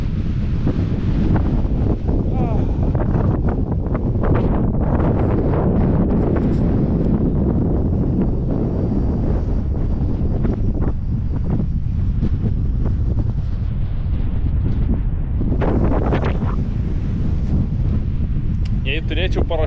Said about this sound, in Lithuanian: Vėjas toks didelis, kad šakės.